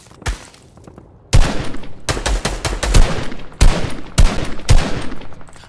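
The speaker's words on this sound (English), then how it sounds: "I'm getting shot." Rapid bursts of video game gunfire, loud and close, with a short burst early on followed by sustained volleys of automatic shots broken by brief pauses.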